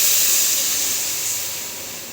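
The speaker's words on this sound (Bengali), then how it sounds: "মশলা দিয়ে ভালো করে কষিয়ে নেওয়া হয়ে গেছে, এবারে দিয়ে দেবো জল।" Water poured into a pan of hot fried spices while cooking a fish curry bursts into a loud, steady hissing sizzle that slowly fades over two seconds.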